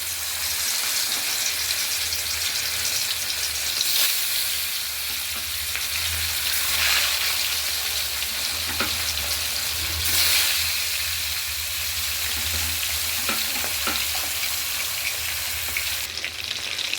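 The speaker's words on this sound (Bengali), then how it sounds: "মাছগুলো ভাজার জন্য তেল গরম করে নিয়েছি" Pieces of katla fish fry in hot oil in a pan, giving a steady, close sizzle with soft crackles and occasional stirring clatter throughout, with no talking.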